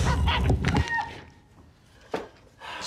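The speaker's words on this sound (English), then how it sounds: "I got you this chicken." A chicken gives a few short clucks, close and fairly loud at first, then quieter squawks after a pause, with no speech.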